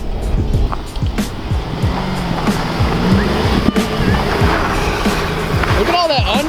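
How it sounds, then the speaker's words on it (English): A Buick truck slides through a snowy parking lot with a loud, continuous rumble of engine and a hiss of tires churning snow, shifting as it swings, while people talk throughout. "We are drifting, but the snow, I don't know if it's slippery enough."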